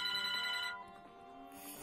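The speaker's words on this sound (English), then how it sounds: "as I was saying before the phone rang" A telephone rings with a bright electronic trill that sounds once and then fades, alone with no talk over it.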